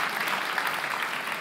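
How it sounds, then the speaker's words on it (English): An audience applauding a football team, a steady wash of many hands clapping at moderate distance, brief and even in level. "We're going to applaud the team"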